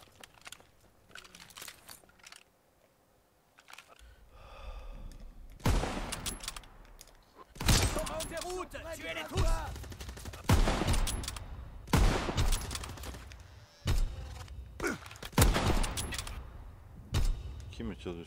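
Sharp bursts of gunfire in a PS4 shooter, several loud volleys spaced through the stretch, mixed with in-game voices and talk.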